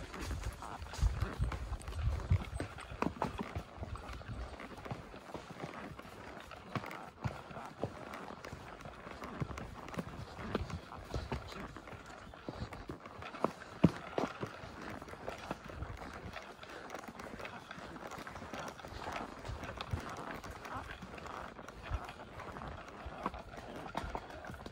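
A horse walks along a forest trail on Iron Mountain, Virginia, its hooves thudding in a soft, irregular rhythm close by over leaf litter and dirt under steady outdoor ambience.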